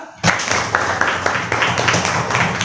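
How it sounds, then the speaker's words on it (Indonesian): A group of people clapping steadily, a dense burst of applause that starts suddenly and keeps going without a break. "Tepuk tangan juga."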